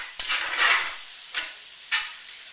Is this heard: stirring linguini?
yes